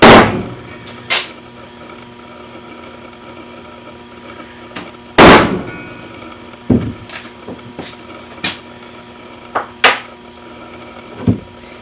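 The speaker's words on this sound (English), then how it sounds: "Punch me some holes to keep my drill bit from wandering away." A series of sharp metallic hammer strikes on a center punch marking holes in metal, two loud blows followed by several lighter taps spaced irregularly, close by with a quiet hum between them.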